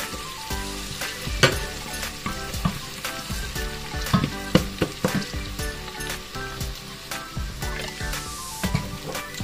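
Garlic and onion sauté in a hot pan, a steady close sizzle broken by frequent sharp scrapes and clacks of stirring, with no one talking.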